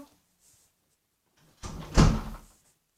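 Indoor door being closed: after near silence, a single close swoosh and thud as the door swings shut, loudest at the latch, then fading to quiet.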